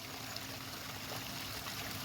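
Water trickles down a small garden pond waterfall, a soft, steady rush and babble with no break, faint and distant-sounding throughout.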